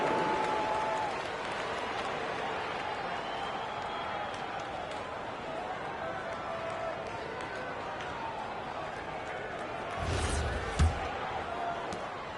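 A crowd in a basketball video game keeps up a steady wash of applause and arena noise, with a brief swell and a thump near the end, under talk.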